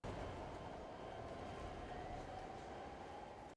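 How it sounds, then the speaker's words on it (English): A train rushes past in a TV show, a dense, loud, continuous rumble and roar that holds steady for a few seconds before cutting off abruptly. "Oh, it's just a train."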